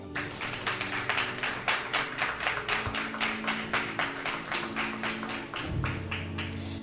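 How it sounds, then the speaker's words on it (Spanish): Audience applause in an event hall, a steady run of brisk hand claps close by and fairly loud throughout, with no talking. "Démosle un fuerte aplauso"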